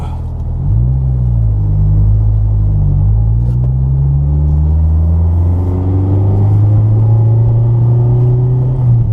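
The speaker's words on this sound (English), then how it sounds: "I'm about to just drive the S2000" A Honda S2000 rear-wheel-drive car drives on a wet road in the rain, its engine a loud close rumble that rises in pitch through acceleration and gear changes, with no talking.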